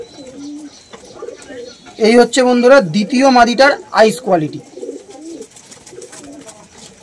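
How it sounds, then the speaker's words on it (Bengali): Female Naphta (Nafta Madrasi) pigeons in a loft give soft, low coos, partly under someone talking close by. "দুটোই মাদি পায়রা, লম্বা লম্বা পায়রা, নাপ্তা মাদি, পিওর পায়রা"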